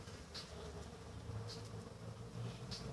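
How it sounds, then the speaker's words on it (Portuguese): Stingless Uruçu Roxa bees hum around the entrance of a newly divided hive box, a faint, steady buzzing drone with a few passing individual bees swelling briefly nearby. "Tem muita abelha, ó, já estão reconhecendo a entrada."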